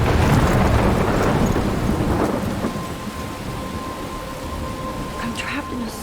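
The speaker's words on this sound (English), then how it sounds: "I'm trapped in a storm?" A thunderstorm in the video game Life is Strange: loud rolling thunder fades out over steady, heavy rain, with a thin tone and some faint noises toward the end.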